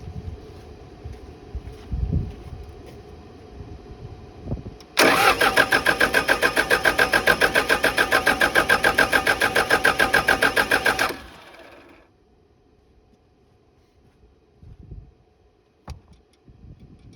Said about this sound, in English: I'm gonna go crank the motor